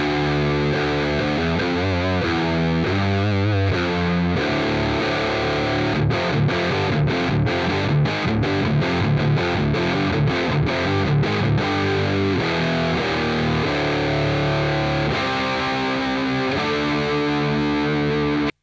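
Electric guitar played through a Danelectro Cool Cat Fuzz pedal plugged straight into a Goldstack cab with no amp head, giving a thick, buzzy, heavily distorted tone; sustained chords give way to a run of choppy, rhythmic stabs before ringing out again, with no talking.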